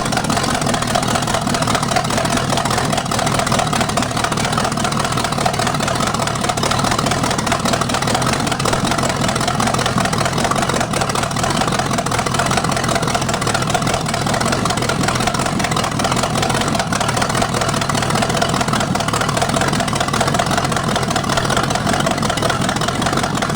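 A Chevy 350 small block V8 idles steadily and continuously at close range. The rumble stays even and unbroken throughout, with no talking over it.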